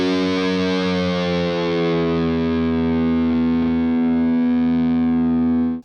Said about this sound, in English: a really cool riff, a single note riff that I love to play